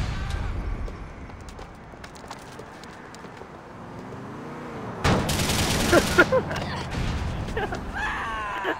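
Gunfire crackles in a GTA IV game session, scattered shots over engine and mechanical creaks, swelling into a dense loud burst of rapid fire near the middle before easing.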